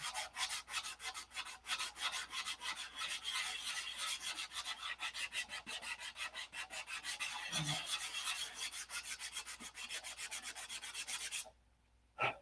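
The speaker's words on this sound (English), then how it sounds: "Right here, I've sanded through the Z-poxy." Rhythmic back-and-forth sanding of Z-poxy epoxy finish on a 1/2 scale Cobra model, a close, steady, raspy scrubbing that runs continuously before stopping abruptly near the end.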